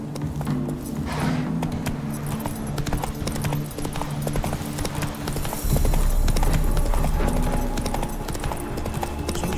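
A horse walks with a steady clip-clop of hooves, continuous and fairly close, with a low hum underneath and the pace firming up toward the end.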